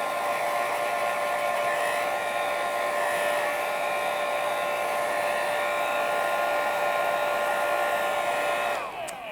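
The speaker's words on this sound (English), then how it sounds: "And then I can hit it with the blow dryer again." A blow dryer blasts air over fluid acrylic paint with a steady, loud, high whirring hum that runs unbroken for about nine seconds before cutting off abruptly at the end.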